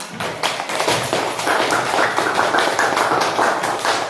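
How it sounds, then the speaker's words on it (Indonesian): Group one of a class gets a round of rhythmic clapping from the room, dense overlapping hand claps with a few taps and thumps, moderately loud and steady throughout. "Sekarang kita kasih tepuk pada kelompok satu"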